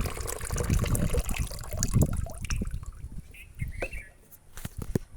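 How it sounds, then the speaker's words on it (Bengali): Water that soaked overnight with onion peels being poured and mixed into half a litre of water for hibiscus plants, a close splashing and trickling pour that eases off, with faint birdsong in the background. "সেই জলটা আমি 1/2 লিটার জলের মধ্যে মিশিয়ে দেব"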